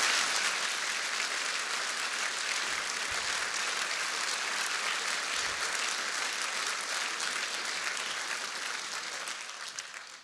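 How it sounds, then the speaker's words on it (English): Sustained, dense applause from a large audience after an engineering presentation, a steady even wash of clapping that holds for ten seconds and tapers slightly at the end. "I know you've applauded once, please applaud again"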